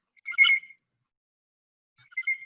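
A blue jay gives an unusual, non-jay call, two short bright bursts separated by a long silence, recorded clearly and fairly close with no voices.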